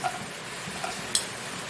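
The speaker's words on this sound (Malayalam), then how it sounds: "നമുക്കതിലേക്ക് നെയ്യിടാം. നമുക്ക് നെയ്യ് മൂത്തിട്ടുണ്ട്. അണ്ടിപ്പരിപ്പ് വറുത്തെടുക്കാം." Cashew nuts fry in hot ghee for palada pradhaman payasam, a faint, brief hiss with a couple of soft stirring taps.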